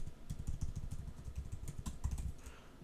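Close, quiet clatter of fingers typing a credit card number on a computer keyboard, a quick irregular run of soft key taps.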